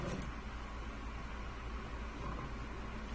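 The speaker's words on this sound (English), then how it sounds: "Sorry about the fan." An indoor fan blows continuously to dry craft pieces for a fall lantern, giving a faint, steady, even whoosh with no talk.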